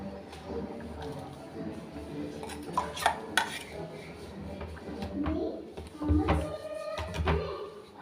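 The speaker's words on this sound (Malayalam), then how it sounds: "അപ്പം നമുക്ക് അരപ്പ് ഒഴിക്കുക. തിളച്ച് വന്നിട്ടുണ്ട്, അരപ്പ് ഒഴിക്കുക കേട്ടോ." Ground coconut paste poured into boiling jackfruit seed curry and stirred, heard as quiet clinks and scrapes of a spoon against the pot with a pouring, bubbling texture, fairly soft and close.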